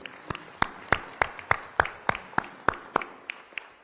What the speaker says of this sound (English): I think a big round of applause for both of them